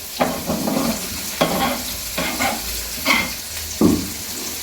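Shallots, onions and curry leaves sizzle while frying in a pan for a beef dish, with several bursts of stirring and scraping recurring every second or so, close and clear with no talking.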